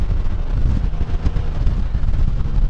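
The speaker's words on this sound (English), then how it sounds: "It's a little windy out today." Wind gusts buffet the microphone in a steady low rumble, continuous and loud with no other sounds.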